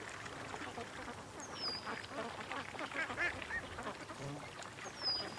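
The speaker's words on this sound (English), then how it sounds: "And the ducks are hanging around in the exact same spot as all the other years." Ducks gather at a favored waterside point early in the morning, giving scattered faint quacks and calls over a steady outdoor background, with a couple of sharper bird calls rising above.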